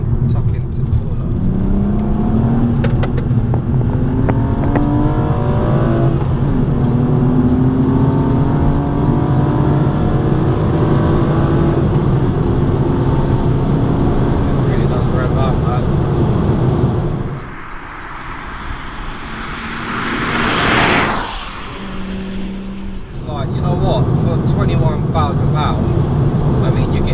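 A manual BMW M235i driving through a corner, its engine note loud and steady with rising and falling harmonics as it pulls through long gears, a brief lull and whoosh near the end, with a person talking throughout.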